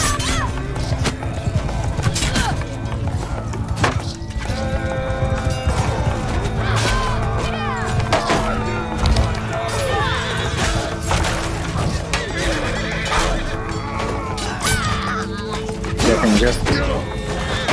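A horse neighs and gallops amid constant clashing and crashing from a busy 60v60 siege battle in Bannerlord Online, with a voice talking over the din throughout.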